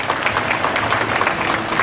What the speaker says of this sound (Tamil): அவர் உண்மையிலே நம்ம பசியாக இருந்தால் ஒரு நல்ல கைத்தட்டு கொடுக்குறோம்